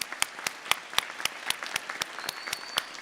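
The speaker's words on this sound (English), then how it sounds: "I'd like you to give a huge clap to your family, friends, and supporters that have got you through this time" A graduation ceremony audience claps continuously, with dense, lively applause filling the hall and sharp individual claps standing out over the crowd.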